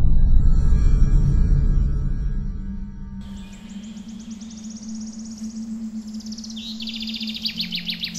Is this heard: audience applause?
no